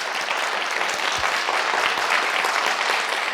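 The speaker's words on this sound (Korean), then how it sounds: "한 번 더 박수." A congregation at a Korean church Bible study on Psalm 30 claps steadily with an even, continuous patter and no pauses, filling the whole moment.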